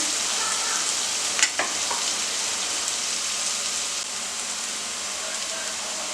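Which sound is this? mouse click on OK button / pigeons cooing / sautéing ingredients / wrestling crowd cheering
sautéing ingredients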